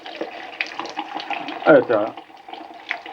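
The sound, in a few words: water running from a tap while rinsing a hand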